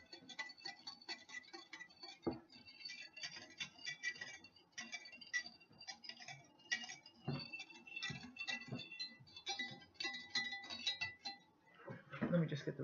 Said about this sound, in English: I'm going to stir all this up.